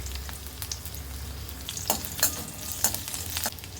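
Green chilli, ginger, garlic and a handful of cashews fry with cloves and cardamom in hot oil, a close, crackling sizzle broken by a few sharp stirring scrapes and spits.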